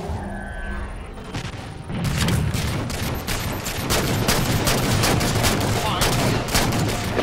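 Video game gunfire in loud, dense, rapid bursts that continue steadily, close and dominant over faint background sound.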